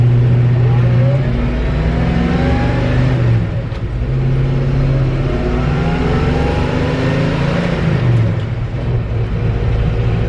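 A 1963 Chevy C30 truck with a passenger-car 327 four-barrel V8 drives along, its engine droning loud and steady with rising and falling revs through shifts, and a slight valve tick.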